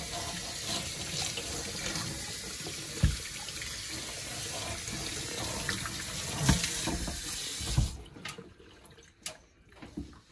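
Tap water runs steadily into a sink while cleaning cream is rinsed off Air Jordan 11 sneakers, a continuous close splashing hiss with occasional louder splats, cutting off near the end to a few drips.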